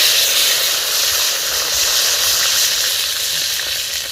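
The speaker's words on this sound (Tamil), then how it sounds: "இப்போ எண்ணெய் காஞ்சிச்சு. இப்போ கருவேப்பிலை ஆட் பண்ணிக்கலாம்." Curry leaves hit hot oil with a loud, continuous sizzle and crackle that stays close and steady throughout.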